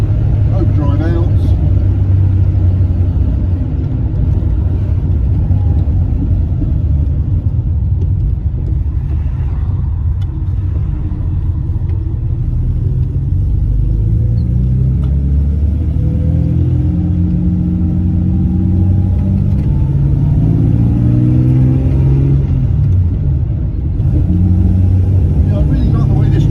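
A 1955 Jaguar XK140SE engine hums steadily as the car drives along a busy main road, with a constant low rumble and a few swelling rises in pitch as it pulls, while someone talks over it throughout.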